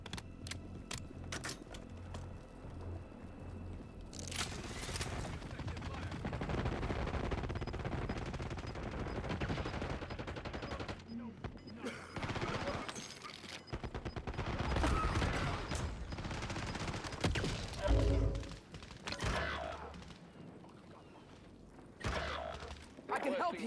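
Gunfire in a battle video game: bursts of automatic weapon fire and mechanical clanks in rough, irregular clusters, mixed with game voices and effects.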